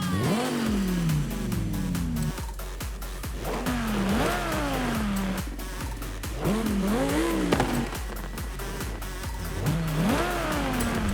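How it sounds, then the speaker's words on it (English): Car engine with an upgraded exhaust revving repeatedly, each rise and fall a loud rasping sweep, about five blips over a steady idle rumble, close by and with no talk. "That sounds better with the upgraded exhaust."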